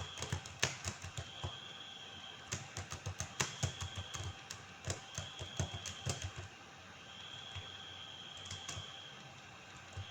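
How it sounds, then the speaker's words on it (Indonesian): Fingers tap out text on a computer keyboard while working in a word processor, quick bursts of close key clicks with brief pauses between runs. "Misalkan kita ketik aja."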